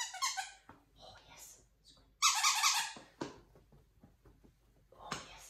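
A squeaky dog toy is squeezed during dog training in several sharp, high bursts, with a person talking softly between squeaks.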